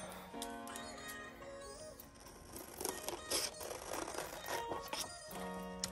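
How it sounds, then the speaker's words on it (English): Scissors cut out a printed paper image with soft, rapid snipping and rustling. Faint music plays in the background and no one speaks. "So now I'm just gonna go ahead and cut the image out"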